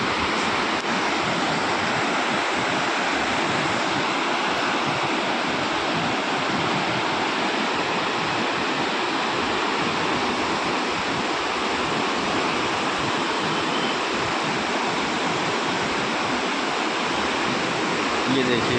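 A swollen, muddy Himalayan river roars in a dense, continuous broadband rush, loud and steady throughout with no pauses.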